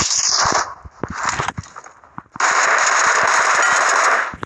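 Rapid automatic gunfire from a video game crackles in dense loud bursts, a stuttering volley first, a brief lull, then a long sustained stream of shots close up.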